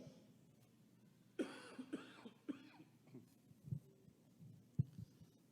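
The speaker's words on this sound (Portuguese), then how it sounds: "Porque dói bastante tossir agora." A person coughs several times in short, harsh bursts, close by, with quieter throaty sounds and breaths in between.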